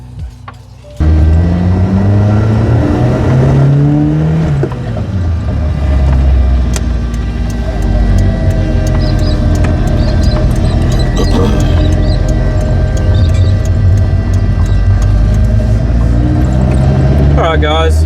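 A Suzuki Sierra driven on a road test after new wheel bearings were fitted, its engine rumbling loud and close with a steady roar, rising in pitch early on, while a voice talks over it.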